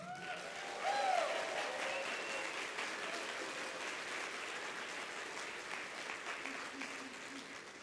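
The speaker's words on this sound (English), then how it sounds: "I want everybody to give them a big round of applause." A convention crowd at an opening ceremony applauds its volunteers, sustained clapping spread across a large hall, fairly distant and even, with a slight swell near the start.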